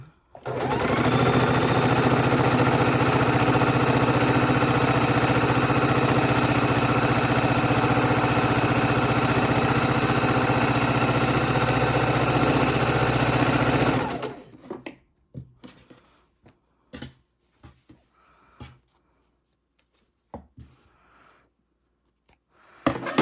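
Sewing machine running steadily for about fourteen seconds while stitching stacked fabric pieces for bowl holders, loud and close, followed by scattered clicks and handling noises.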